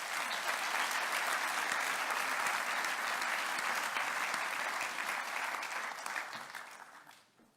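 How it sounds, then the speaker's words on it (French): An audience at the Garde Nationale assizes in 2018 applauds participants about to join the stage, sustained full-room clapping holding steady for several seconds before fading out quickly. "Je vous demande de les applaudir"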